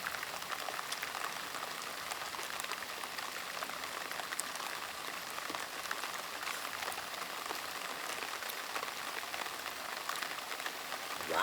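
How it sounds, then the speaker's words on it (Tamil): Heavy rain pours steadily outdoors around an open-air cooking spot, a dense continuous hiss of drops hitting surfaces that stays even and unbroken throughout. "மழை செழிப்பாக வருது."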